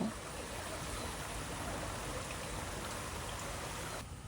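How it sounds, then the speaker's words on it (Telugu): Steady soft patter of light rain, a continuous hiss of fine drops with no voices, even and close throughout. "ఒకవైపు చిన్నగా చినుకులు, మంచి వెదరు"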